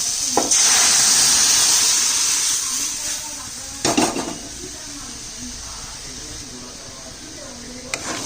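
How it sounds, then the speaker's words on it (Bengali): Lentils are poured into a pan already holding fried spices, soybean and cashews, making a brief rush and hiss at the start that settles into softer sizzling, with a couple of sharp clinks of utensil on pan. "সব কিছু ভাজাই আছে আমি ডালটা ঢেলে দিচ্ছি"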